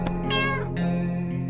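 Cat screeching in the survival game 60 Seconds, a loud, close, drawn-out wailing yowl rising and falling over a steady low hum, with a second shorter cry at the end.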